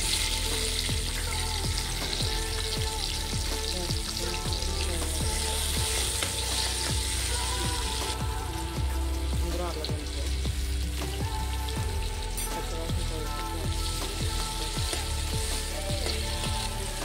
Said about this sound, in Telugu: కొంచెం మసాలా ఇలా ఫ్రై అయిపోతుంది కదా